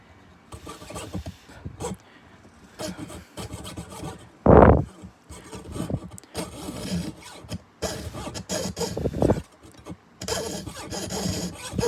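Pearl letter inlay being cut with a fine saw, producing irregular bursts of rapid rasping strokes close up, separated by short pauses, with one louder scraping burst midway.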